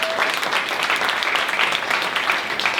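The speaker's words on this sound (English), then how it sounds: "another round of applause for Bill and Athena." An audience claps and applauds, a dense, lively patter of many hands that stays fairly even throughout.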